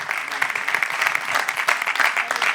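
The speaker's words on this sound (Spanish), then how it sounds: "Dale un aplauso a ese Señor." Congregation applauding in a church, a loud, sustained ripple of clapping from a crowd with a voice speaking over it, continuous for the whole stretch.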